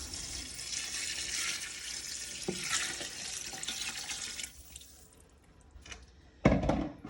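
Vegetable broth pours into a soup pot for minestrone in a steady, soft liquid stream lasting about four seconds, then tapers off. A short clatter follows near the end.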